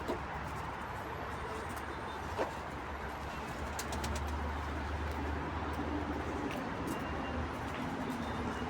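Tumbler pigeons coo softly in the background amid a steady outdoor hum, with a faint distant rumble and an occasional light click.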